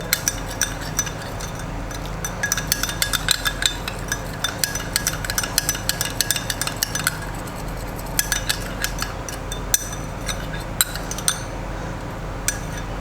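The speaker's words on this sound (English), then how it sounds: "Then I'll go ahead and continue stirring this up." Spoon stirring a lemon juice mixture in a small bowl or glass, rapid repeated metallic clinks and scraping, close and clear with no talking.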